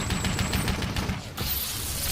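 Rapid bursts of gunfire in the Halo video game, dense and continuous, briefly dropping away before resuming.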